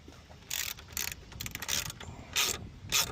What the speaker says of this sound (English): I am using a ratchet for these